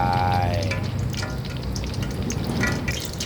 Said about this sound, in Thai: เทน้ำมันลงไป